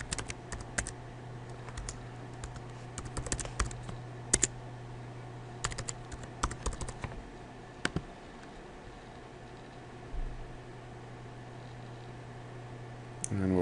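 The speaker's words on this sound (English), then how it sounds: "So let's go ahead and type that in." Someone types login details on a computer keyboard in irregular bursts of close, crisp key clicks, with short pauses, over a steady low electrical hum.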